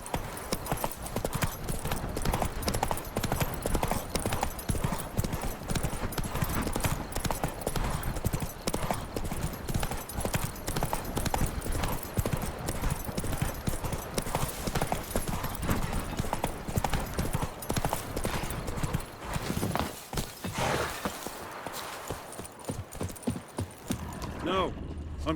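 Hooves of the horse Roach gallop at a steady clip-clop in The Witcher 3, loud and continuous under game dialogue, with a brief whinny possible before it fades near the end.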